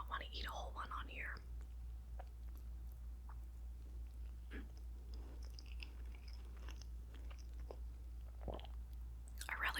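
Red velvet cake being eaten up close, with soft chewing and moist mouth sounds spread across the stretch over a steady low hum, joined by brief whispering.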